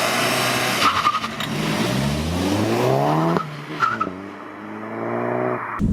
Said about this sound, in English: Feel that 230 brake horsepower provided by that absolutely gorgeous 2-litre turbo.